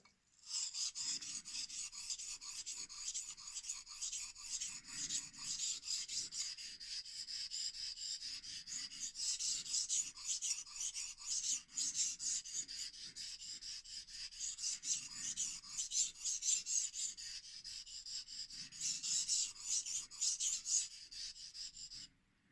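Kai DM0700 damascus kitchen knife sharpened on a Shapton whetstone, with close, steady back-and-forth rasping strokes of steel grinding on stone, repeated in long rhythmic runs with brief pauses between.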